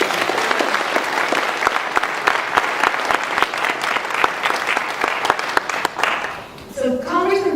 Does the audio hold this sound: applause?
yes